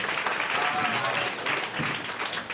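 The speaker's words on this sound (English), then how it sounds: "Please, give a round of applause." Sustained applause from a crowd at a debate forum for an at-large DC Council seat, dense and steady clapping throughout with no breaks.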